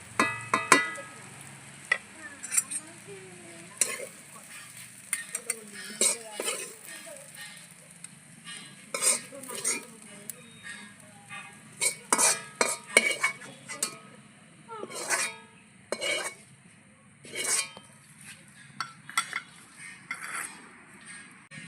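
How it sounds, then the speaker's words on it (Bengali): Onion, ginger and garlic lightly fried in a wok, stirred with scraping spatula strokes and clattering metal as they're lifted out, the soft sizzle underneath and a few sharp clinks scattered through. "পেঁয়াজ আদা রসুনটা হালকা করে ভেজে নিয়েছি এবার তুলে নেব"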